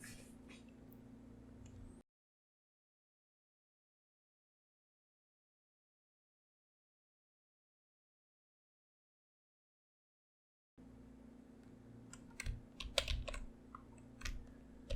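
Keystrokes on a computer keyboard while values are entered into VBA code for Excel, a soft steady run of typing at the start, then silence, then clustered louder clicks and taps returning near the end.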